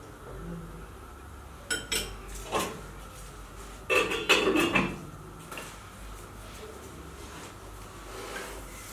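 Jollof rice being stirred in a metal cooking pot, with several spoon scrapes and clinks against the pot clustered in the middle of the clip, over a quiet kitchen background.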